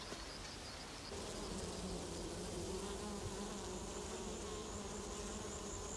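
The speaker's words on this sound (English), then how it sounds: "The native bee doesn't have a sting, and he looks like a little fly, a little bush fly just kicking around the place." Native stingless bees buzz steadily around a wild hive in rocks, a dense close drone with faint individual whines, swelling slightly louder after the first second and holding constant.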